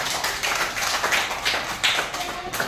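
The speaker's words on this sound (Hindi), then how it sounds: "अली के लिए जोरदार तालियां बजाइए" A class of children clapping for a classmate, a lively run of many uneven hand claps close by that continues without pause.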